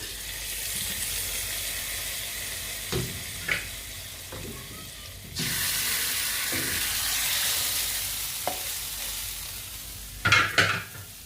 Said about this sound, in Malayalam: കടുക് വറുത്ത മിക്സ് നമ്മുടെ ചിക്കൻ സ്റ്റൂവിലേക്ക് ഒഴിച്ച് കൊടുക്കാം.